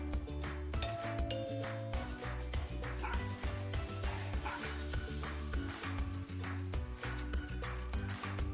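Husky dogs bark and yip repeatedly against a busy background of other sounds, their calls fairly close and frequent throughout, with a few whimpers mixed in.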